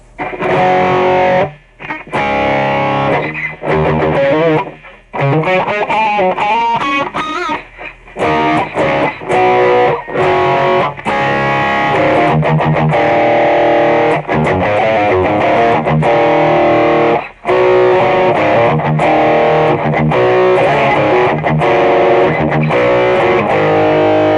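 A distorted electric guitar through a BOSS OD-1 overdrive pedal plays continuous crunchy chords and riffs, loud and sustained with only brief pauses.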